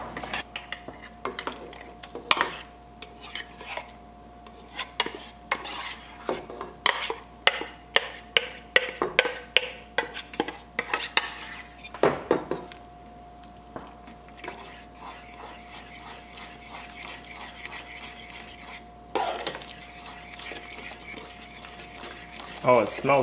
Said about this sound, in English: Just gonna stir it up. Got a good little boil going.